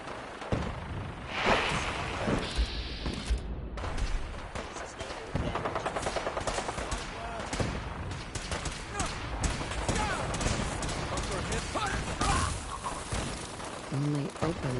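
Sustained automatic gunfire from the video game Fallout, dense and loud, crackling almost continuously with occasional voices underneath.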